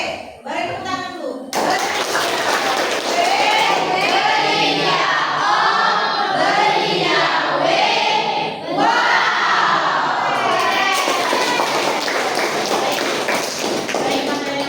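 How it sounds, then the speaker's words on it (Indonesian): Classroom audience in a mathematics lesson breaking into loud, sustained clapping mixed with children's shouts and cheers, continuous and close for several seconds. "beri tepuk tangan dulu"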